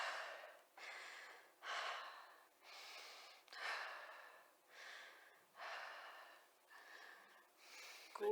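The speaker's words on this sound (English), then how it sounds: "Let's do a breathing exercise" Slow, deliberate breathing during a calming breathing exercise with a distressed patient, about eight even breaths in and out, close and quiet, with no words spoken.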